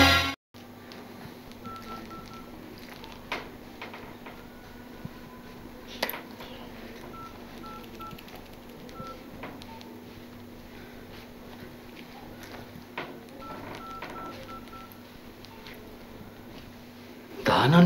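Phone keypad dialing tones in a Pashto TV drama scene: a series of short beeping tones, spaced unevenly, sounds over a steady hum, with faint background movement and some speech.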